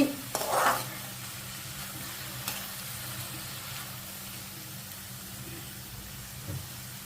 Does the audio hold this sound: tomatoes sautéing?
yes